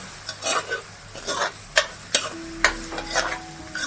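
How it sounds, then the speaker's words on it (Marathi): Ginger garlic paste stirred in hot oil for spicy Kolhapuri misal, giving a close, steady sizzle with repeated spoon scrapes and clinks against the pan and a faint hum underneath. "आलं लसूण पेस्ट आता आपण परततोय"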